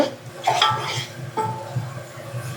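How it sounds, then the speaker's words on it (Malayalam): A spoon scrapes and clinks against a pot while Ambur biriyani masala is stirred, giving a few close metallic knocks and scrapes over a low background hum. "ഇതൊരു ഒരു മിനിറ്റോളം നല്ലപോലെ ഇളക്കി കൊടുക്കണം"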